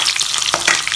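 Green chillies and garlic dropped into hot oil to fry for Tindora 65 give a steady, close sizzle with a brief surge of bubbling crackle partway through, with no voices.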